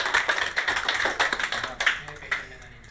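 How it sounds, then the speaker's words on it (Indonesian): An audience of teachers and school supervisors claps at a seminar, a few seconds of scattered, uneven hand claps that thin out toward the end, with some faint voices underneath. "Tepuk tangan semuanya Bapak Ibu sekalian."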